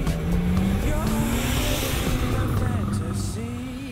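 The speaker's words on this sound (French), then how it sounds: "L'échappement à barre dans le tunnel" Engine and exhaust of a Ferrari sports car roaring through a tunnel in Monaco, a loud sustained drone whose pitch slowly rises and shifts throughout, with faint voices underneath.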